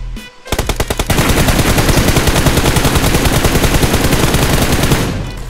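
Rapid automatic gunfire in a mobile shooting game, a loud, close, steady stream of evenly spaced shots running almost without pause for several seconds before stopping abruptly.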